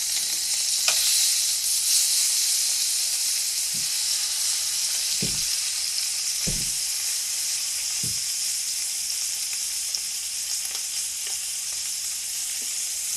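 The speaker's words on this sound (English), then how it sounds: "And let's sear it off." Sous vide chuck steak sears in a hot pan with a steady, close sizzling hiss throughout, broken by a few soft knocks and clinks of handling, and no voices.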